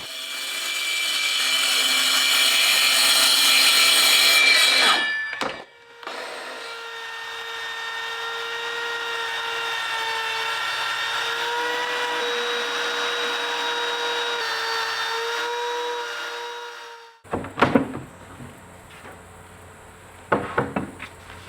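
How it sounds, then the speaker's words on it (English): A track saw rips through 3/4 inch hard maple plywood for a kitchen pantry build, a loud steady whining cut lasting several seconds, a brief pause, then a second long even cut before it winds down into clattering handling noises. "We're gonna be using my track saw a lot on this project"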